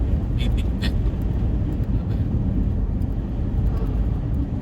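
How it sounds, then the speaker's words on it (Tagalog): A car engine runs at high RPM, a loud, steady low roar with road and wind noise that fills the whole stretch without letup. "background ng sasakyan, maingay. Talagang malakas."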